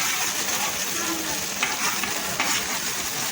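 Rice being stirred into a fried garlic and chili mixture in a pan, a steady close sizzle with soft scraping stir sounds and occasional light clicks of the spoon.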